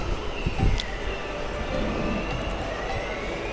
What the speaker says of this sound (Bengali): অযোধ্যা ধাম জাংশন রেলওয়ে স্টেশনটি প্ল্যাটফর্মটি